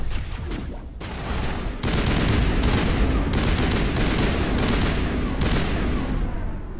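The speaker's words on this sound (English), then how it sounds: "The sound of our new gun is so amazing." A newly acquired gun fires in the sci-fi shooter Mass Effect, with loud, sustained bursts of heavy weapon fire in repeated volleys. A brief lull near the start is followed by a continuous barrage.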